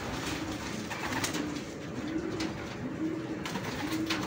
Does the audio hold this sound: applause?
no